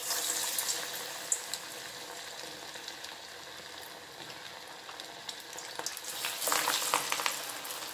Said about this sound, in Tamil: இப்போ ஒன்றுனா எடுத்து எண்ணெயில் போட்டுடலாம். எண்ணெயில் போட்டுடுறேன்.